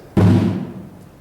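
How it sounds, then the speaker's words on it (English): One sharp hit on the highest-pitched tonal bass drum, a quick thumping attack followed by a short resonant ring that dies away within half a second, near and isolated. "And bass drum number 3, the highest pitch, will sound like this."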